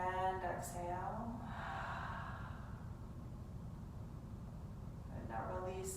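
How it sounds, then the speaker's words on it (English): Deep breaths in and long exhales during a yoga session: soft, steady airy breathing fills the middle stretch, with a voice briefly heard at the start and end. "Deep breath in. Big exhale."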